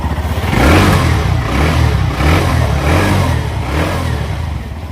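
A Hero Glamour X 125 motorcycle engine revs up and settles repeatedly at close range, a smooth mid-pitched throb rising and falling in several blips over a low idle, with no talking.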